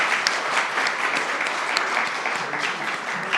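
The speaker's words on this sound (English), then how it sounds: "I want to give each of you another round of applause" An audience claps at a certificate ceremony held by a legal centre, a dense, steady round of applause filling the room for a few seconds with no voices over it.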